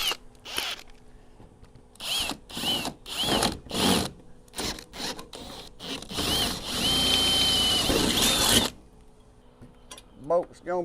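A power drill with a larger bit bores a bolt hole for mounting the bracket of a 22-inch curved LED work light bar. Short revving bursts come first, then a long, steady, loud drilling run, with some talking between the bursts.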